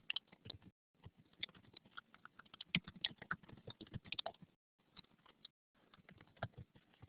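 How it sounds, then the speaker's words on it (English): Several people typing on computer keyboards, rapid irregular clicking in bursts with short pauses between, faint and close, no talk. "A couple of people are typing."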